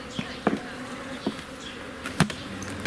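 Bees buzz faintly in a quiet outdoor setting, a thin, wavering drone broken by a few sharp knocks and brief louder passes.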